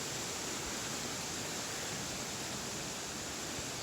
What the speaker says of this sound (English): We've just seen the top of the waterfall.